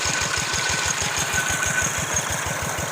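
An engine-driven pump draining a natural fish pond in a rice field chugs steadily at idle, a loud, close, even low thumping rhythm with a constant mechanical hiss and no voices.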